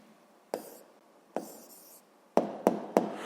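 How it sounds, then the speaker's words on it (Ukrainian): Pen strokes on paper scratch out a handwritten answer in a physics exercise, a few short, separate, close scribbles, the last three quick and close together. "Тут одразу можна записати відповідь і записуємо відповідь."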